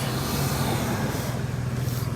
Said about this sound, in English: I do this to let the cars go.